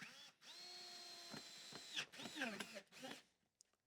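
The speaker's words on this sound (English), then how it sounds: "We pull the wood nice and tight. We drill in to attach it, and we'll repeat at the top." A power drill drives screws into wood while a MyoSauna Lux sauna frame is assembled, a sustained motor whine rising and stopping in two bursts, close and clear, with a few clunks at the end.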